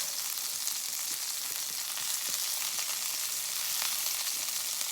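Onions fry alongside other food on a portable 9-inch Blackout Stove, giving a soft, steady sizzle with occasional faint ticks and crackles throughout.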